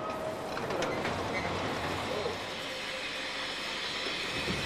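A passenger train rolls along the rails, a steady low rumble and wheel noise heard from inside a carriage, moderately quiet and continuous, with faint voices in the background.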